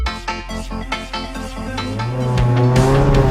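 Race cars on the Morgan Park circuit in a Queensland Improved Production round pass close by, engines revving hard through rapid gear changes, then one car's rising drone swells loudly, with tyre noise mixed in.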